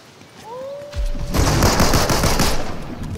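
Video game gunfire: a rising whistle, then loud, dense bursts of rapid shots and booms that continue without pause.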